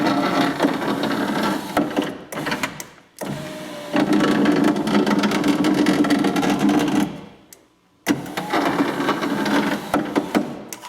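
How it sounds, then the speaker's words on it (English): A faulty window regulator on a 2004 Ford F150 grinds and rattles harshly as the passenger window rolls, in several long runs broken by brief pauses, fairly loud and close. "I was hearing this horrendous sound when I roll out window up and down."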